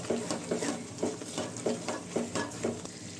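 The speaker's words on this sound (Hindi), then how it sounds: "अब इन सभी मसालों को अच्छी तरह से भून लीजिए।" Spices fry in hot oil for Afghani egg korma, a steady sizzle broken by regular scraping stirs that repeat roughly twice a second, close and moderately loud.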